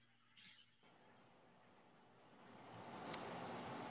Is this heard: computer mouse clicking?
yes